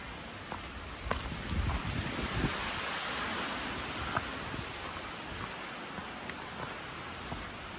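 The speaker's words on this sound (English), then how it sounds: "it's nice and windy, that's for sure" Wind rushes steadily along a dark, dreary, tree-lined stretch of the Appalachian Trail in Maine, a constant broad roar with faint scattered ticks and knocks, close and unbroken, with no one speaking.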